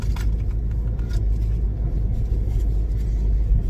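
A car's engine heard from inside the cabin while driving, a loud, steady low rumble with road noise running throughout, no voices.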